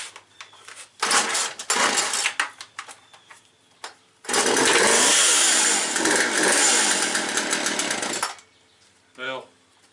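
Poulan 2075 chainsaw after a carburettor rebuild, its small two-stroke engine buzzing loudly in bursts, a short rev, a longer steady run, then cutting out before a brief voice.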